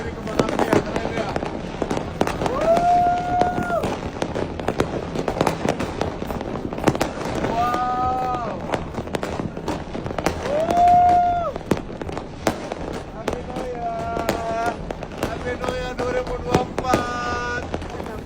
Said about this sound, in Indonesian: kanan kiri kembang api ya, keren ya